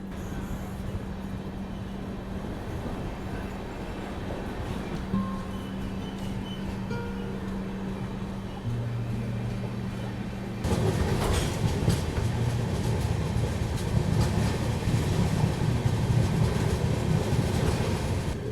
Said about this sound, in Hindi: रामगढ़ कैंट से निकलते ही बस कुछ ही देर बाद हमारी train Barkakana junction railway station पहुंच जाती है